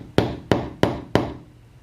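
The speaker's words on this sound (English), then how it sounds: "I'm taking a screw and a hammer and I put it on the spot in the exact center of the mark" A hammer strikes a screw held against a sliding glass door lock to mark a centre point, four sharp close metallic taps at an even pace, each ringing briefly before fading.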